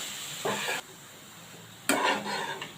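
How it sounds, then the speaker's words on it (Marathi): Fenugreek leaves sauté in ghee over low heat, heard as a gentle hiss with two short bursts of stirring and scraping in the pan, close and quiet. "मेथी आता तुपावर चांगली परतून घ्यायचे दोन मिनिट तिला परतून घ्यायचे"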